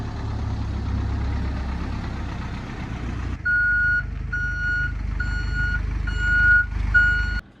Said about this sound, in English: My dad's pulling his box truck over here.